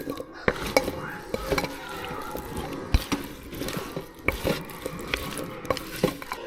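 A spatula works seasoning into food in a pot, making scraping and clinking strokes against the metal with soft wet squelches, fairly close and continuous with irregular sharper knocks.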